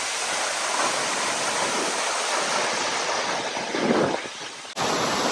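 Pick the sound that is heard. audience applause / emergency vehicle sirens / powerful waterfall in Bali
powerful waterfall in Bali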